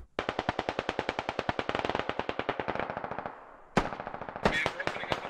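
Video-game LMG fire in SquadOps: a long, rapid, loud burst of machine-gun shots lasts about three seconds, then tapers off, followed after a short gap by a few more sharp shots.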